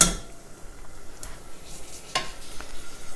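Rice being poured into a hot pan and stirred while toasting for turmeric rice, a soft sizzle with scraping utensil strokes and light clinks against the pan, close by.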